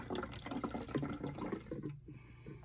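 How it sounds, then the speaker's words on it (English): Water splashes and trickles as it is poured into a spray bottle for watering seeds, a quiet, close, bubbling fill that stops abruptly near the end. "I'm about to put some water in there so I can spray on top of the seeds instead of flooding them by pouring it in there."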